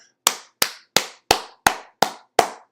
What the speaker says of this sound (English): Y'all give that man a round of applause, man.